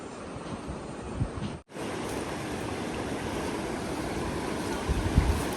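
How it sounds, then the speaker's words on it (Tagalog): Rushing water of a fast-flowing river heard from aboard a boat on the way to an island, a steady loud wash with wind buffeting the microphone, briefly cut near the start and continuing without talk. "Kabilis nitong ilog."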